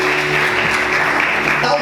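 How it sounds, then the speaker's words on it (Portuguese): Congregation at a church service applauding, a steady wash of clapping with a sustained tone and faint voices underneath, fairly loud throughout. "Vamos aplaudir Jesus com alegria."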